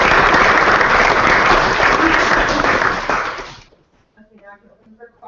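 An audience at a council meeting applauds loudly in a dense, sustained burst of clapping that fades out after about three and a half seconds, followed by quiet voices.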